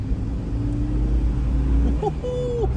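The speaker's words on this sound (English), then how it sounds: "hear the turbo, you can hear everything" A turbocharged Suzuki Jimny fitted with an AVO turbo kit accelerates in second gear, a steady engine drone followed by a rising turbo whistle and whoosh near the end.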